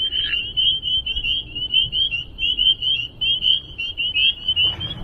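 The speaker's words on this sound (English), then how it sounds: "Listen to them frogs." Frogs calling beside a Florida Trail path near a roadside market, a steady high trilling chorus that carries on continuously and fairly loud over faint background rumble.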